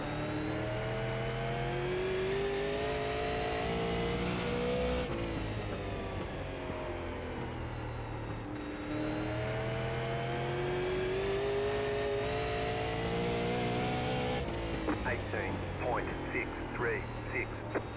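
The engine of a Super Late Model race car in iRacing at New Smyrna Speedway drones steadily and loudly, its pitch rising and falling as it cycles through laps. A voice talks over it throughout.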